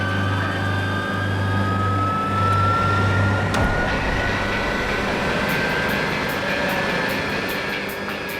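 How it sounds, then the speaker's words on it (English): Jet engines roar at close range as they are moved toward a car in a blast test, a loud, continuous, steady rumble and whine with no voices. "The jet engines are moved in, closer to each other and closer to the car."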